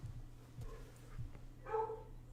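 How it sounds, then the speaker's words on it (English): A dog barks from downstairs, muffled and distant, with a couple of brief barks rising above a quiet indoor background. "my dog's downstairs barking for some reason"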